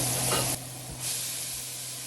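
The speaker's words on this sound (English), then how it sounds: "now I'm going to add in my seasoning and mix it all together and allow the onions to get translucent" Vegetables and onions sauté in a hot pan as seasoning is mixed in for Jamaican home cooking: a steady close hiss of sizzling with a brief stirring shift in the middle, no voices.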